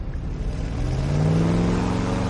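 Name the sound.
car engine started and revving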